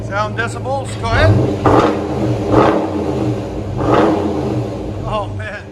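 A 5.7L HEMI V8 in a Dodge Challenger R/T with its mid muffler deleted barks through a few quick revs near the microphone, a low rumbling idle between blips, while people talk over it.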